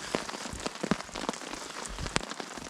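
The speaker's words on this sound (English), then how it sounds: "I'm getting in the tent out of this rain because it's pretty nasty out there now." Heavy rain pelts down steadily on a surface at a winter campsite, a dense continuous patter with sharper individual drops standing out close by, with no talking.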